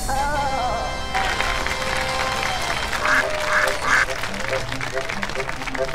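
A tap-dancing duck character in a children's circus show gives a short run of loud, nasal quacks over music and clapping.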